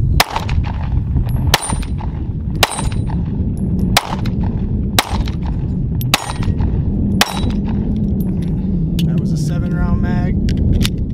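Shots from a Smith & Wesson M&P Shield pistol at an outdoor range: about seven sharp, loud reports spaced roughly a second apart, over a low rumbling background.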